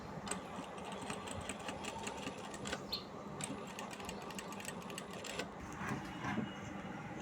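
Sewing machine running steadily while stitching along the edge of a cut-work boat neck blouse, a continuous close mechanical whir with faint rhythmic clatter and no talk.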